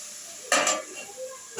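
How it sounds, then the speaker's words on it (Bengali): A lid is set onto a cooking pot of simmering ash gourd curry, giving one sharp metallic clank followed by a brief rattle, with a faint sizzle underneath. "ঢাকা দিয়ে দিচ্ছি,"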